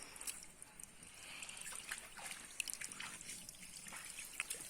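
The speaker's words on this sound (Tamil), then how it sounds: "இங்க பாருங்க, தண்ணி வந்துகிட்டே இருக்கு பாருங்க." Spring water trickling and dripping into a small stream at Mokkai Odai near Gengavaram Falls, Gingee, a faint, steady flow broken by light, scattered drips with no voices.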